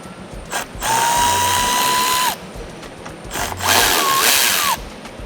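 Bolts on a 2024 Toyota Tacoma are worked loose with a power tool, two bursts of whirring mechanical ratcheting, each about one to two seconds long, with a rising and falling pitch, close and loud, with no talking.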